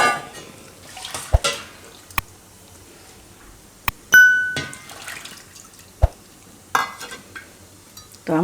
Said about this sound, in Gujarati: આ રીતે ખીચડીને મિક્સ કરી લેવું